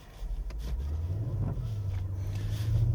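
A 2024 Genesis GV80 Coupe 3.5 turbo engine in sport mode hums steadily with a low, throaty drone that builds slightly in loudness, heard from inside the cabin with no talking.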